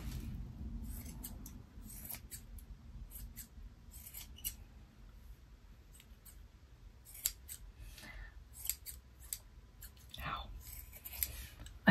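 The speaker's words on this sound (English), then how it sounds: "I want to hold my scissors like I do my grooming shears, and it doesn't work." Quiet, close snips of scissors trimming yarn, repeated irregularly in short bursts, with soft rustling and faint murmured voices in the background.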